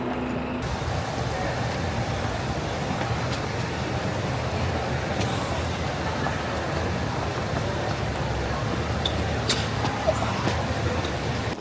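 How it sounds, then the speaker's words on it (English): Traffic ambience at a bus stop: a steady low rumble of passing cars and heavier vehicles, fairly close and unbroken, with faint scattered clicks on top. "Yeah, I'm at the bus stop."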